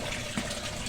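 Water from a filter gushes into a concrete catfish pond, a faint, steady splashing wash that runs continuously through the brief moment.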